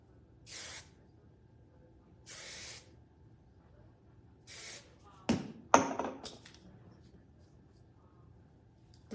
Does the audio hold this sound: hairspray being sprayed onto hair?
yes